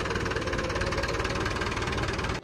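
A tractor engine runs steadily while reversing with a trolley attached, a loud, close, continuous diesel chug and rattle that holds even throughout before cutting off abruptly at the end.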